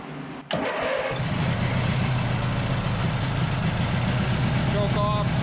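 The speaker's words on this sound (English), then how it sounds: "And then ignition." A rare Taurus 650 trike engine cranks, fires within a second and runs at a loud, steady close idle, with a brief voice near the end.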